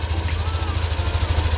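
A Yamaha Aerox V2 scooter engine idles steadily after repair, a low, even mechanical hum with a regular pulsing throb, close and continuous with no knocking.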